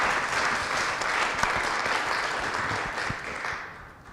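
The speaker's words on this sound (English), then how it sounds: "let's applaud our excellent panel members" An audience at a primary care town hall meeting claps steadily for the panel members, a dense, even wash of applause that holds loud and then tapers slightly at the end.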